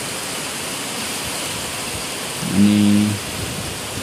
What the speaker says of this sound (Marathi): पुढे चालूच आहे जोरात पाऊस, सगळीकडे धावपत चालले कारण पाऊस आला म्हणून